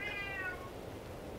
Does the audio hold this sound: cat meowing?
yes